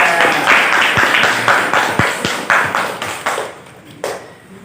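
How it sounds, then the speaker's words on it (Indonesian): A classroom group claps together in a teacher-led lesson, a quick run of distinct, fairly loud hand claps that thins out and fades, ending with a last few scattered claps. "Tepuk tangan dulu."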